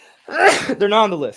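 A single loud, close sneeze bursts out, with a person speaking right after it.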